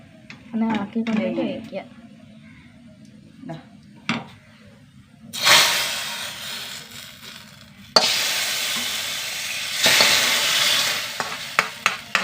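Food fries in hot ghee in a pan, giving a loud, steady sizzle in two long bursts with stirring scrapes. A person talks between them and over them.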